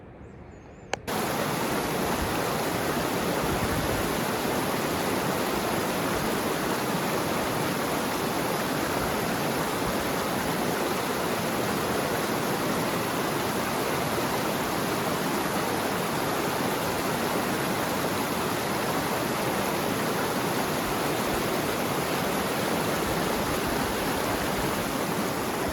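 A river rushes over rocks on the Kashmir Great Lakes trek, a loud, dense, unbroken roar of water that starts abruptly after a second and continues steadily, close by, with no talk.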